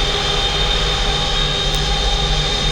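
Steady, loud jet engine roar from the General Electric engines of a PMDG Boeing 777 in a flight simulator, a continuous broadband whine and rumble with a faint high tone, no talking.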